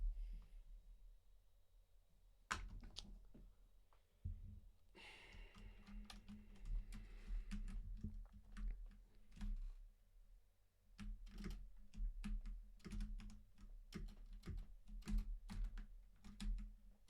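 Fast, uneven clattering on a computer keyboard with a keycap that keeps falling off, used for a rhythm game: dense bursts of close key clicks and thuds that run steadily for the whole stretch, with no voices.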